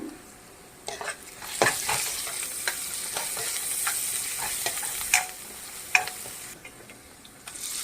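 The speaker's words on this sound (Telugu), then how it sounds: "ఒక స్పూన్ అల్లం వెల్లిగడ్డ పేస్ట్ అంతే కొంచెం పసుపు అది కూడా వేసి మనం మంచిగా కలిపేసుకుందాము" Ginger-garlic paste and turmeric stirred into a sizzling potato curry in a pan, a steady frying hiss broken by scattered scraping spoon strokes, close and moderately loud with no talking.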